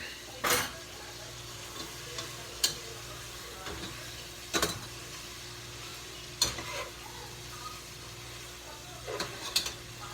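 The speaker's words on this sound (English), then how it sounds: "the bacon is still frying up" Soft, steady sizzle of bacon frying in a pan, with a few sharp clicks and utensil taps scattered through; no one speaks.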